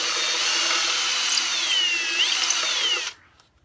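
Power drill boring a hole in a wooden mounting block for a cigar box guitar with a long 1/8 inch bit, a steady high whine whose pitch dips and shifts under load before stopping abruptly.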